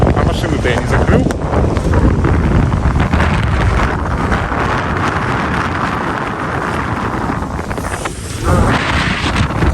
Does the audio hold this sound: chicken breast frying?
no